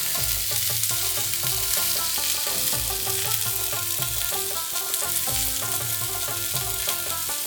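Chicken reshmi kebabs on bamboo skewers sizzle on a grill pan, giving a steady, close crackle that runs the whole time beneath rhythmic background music.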